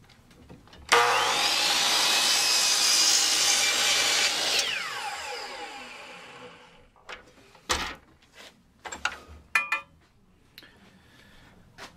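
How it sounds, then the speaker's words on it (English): A power saw cuts bevels into the ends of wooden arms for silhouette decoy V boards, one long loud continuous cut followed by quieter scattered knocks and handling of the wood. "Now we're going to cut some bevels on the ends."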